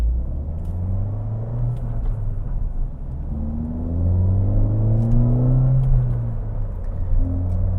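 A Ford Fiesta ST with a small keychain-size turbo pulls forward under acceleration, its engine tone rising steadily in a close, continuous rumble and whir with no talking.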